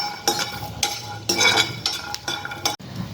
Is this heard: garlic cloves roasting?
yes